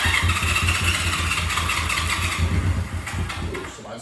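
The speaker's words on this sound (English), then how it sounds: "Key on, switch on, fuel on. Let's see if it starts." A Honda CB350 twin motorcycle engine cranks and fires, a loud, close, steady low pulsing throb running throughout before easing slightly near the end.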